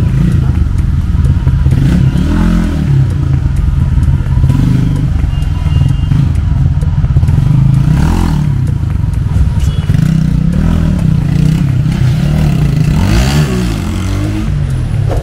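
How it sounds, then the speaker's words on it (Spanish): A motorcycle engine runs after a 10,000 km preventive maintenance service, a loud rough idle with clattering mechanical noise and occasional revs, close by. "ya el motor prendió, ya arrancó"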